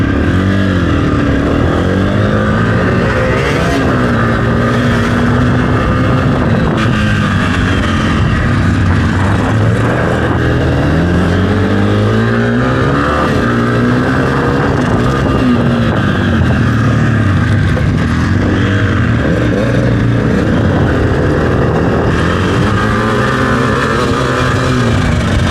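A dirt bike looping an oval training course, its engine droning loudly and steadily with rising and falling revs as it circles, no talk.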